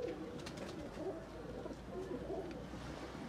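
A Kasuri breeder pair of pigeons, a blue-ringed male and a female, coo softly and steadily in low, throaty rolls that carry on without a break, with no talking over them.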